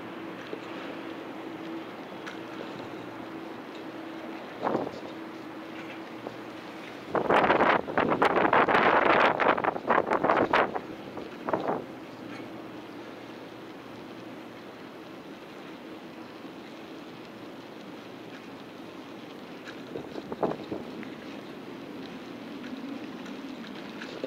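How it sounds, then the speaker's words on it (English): Strong wind while cycling through downtown Toronto, heard as a steady low rumble across the microphone with a louder, harsher gust burst in the middle and a few brief knocks. "Wind is so strong, dust is falling off the roof."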